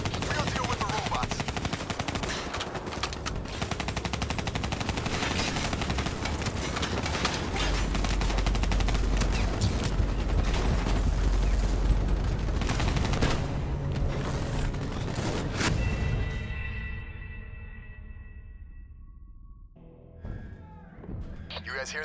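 Call of Duty: Black Ops III battle gunfire, sustained heavy machine-gun and rifle fire with deep booms under it, loud and dense for about fifteen seconds before dropping away, with voices shouting over the fighting.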